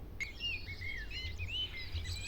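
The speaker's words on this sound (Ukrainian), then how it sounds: "Це пісня шпака." A common starling sings a rapid, varied run of high whistles and chirps against a steady low hum.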